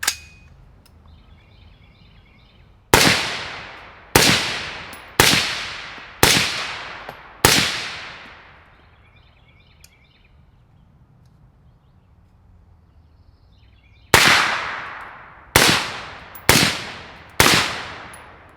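Gunshots from an unsuppressed 16-inch untuned 5.45 AR rifle fitted with an LPM Torch vented end cap: sharp, loud, close cracks fired outdoors in two strings, five then five, each with a ringing decay, separated by quiet.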